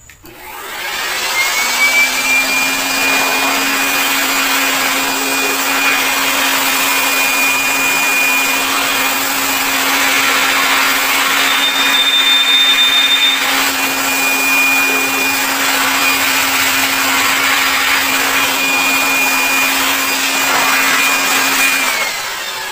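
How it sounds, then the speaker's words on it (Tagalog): An air blower drying the engine bay of a Toyota Hilux after an engine wash, running as a steady loud rushing whoosh with a constant whining tone throughout and no talking. "Tsaka nyo muling i-blower yung inyong mga tinakpan."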